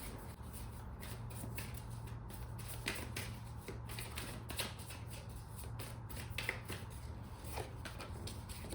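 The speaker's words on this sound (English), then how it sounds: "I'm just going to pull one more card for you." Tarot cards shuffle close up in a quiet room, a soft continuous riffling with rapid crisp flicks and occasional sharper snaps over a low steady hum.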